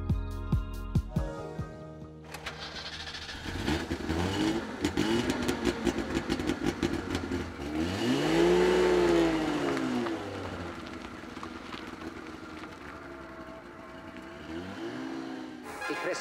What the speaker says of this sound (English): A special feature of this little roadster is the typical high-frequency sound of the two-stroke engine.